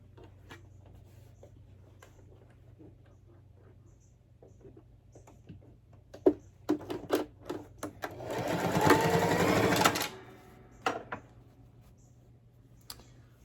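A sewing machine stitching a fabric 3D octagon face mask: scattered handling clicks give way to a fast continuous whirring run of stitching lasting about two seconds, then more clicks and taps nearby.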